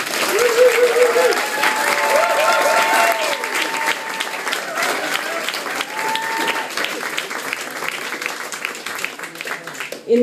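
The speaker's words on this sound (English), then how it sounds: "Big round of applause to Debbie." Theatre audience applauds after a speech, a loud, sustained burst of clapping with a few voices calling over it, holding steady for about ten seconds before rising again at the end.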